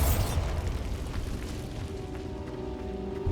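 A Bombarda blasting spell goes off in Hogwarts Legacy with a sharp burst at the start, then a loud rumbling boom that carries on as a steady, dense roar under faint humming tones.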